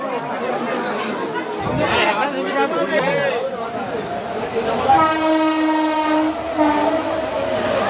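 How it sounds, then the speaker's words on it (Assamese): A train rumbles past with clattering wheels, then a long horn sounds; people chatter nearby over the noise. "এইফালে ৰেলো গৈ আছে, এখন ৰেল।"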